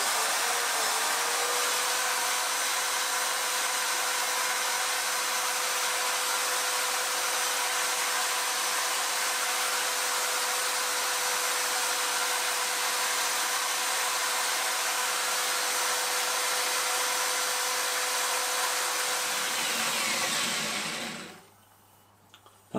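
A mosaic pin is sanded with 280 grit abrasive on a power tool, producing a steady whirring hum with a faint constant tone that runs for about twenty seconds and then stops abruptly.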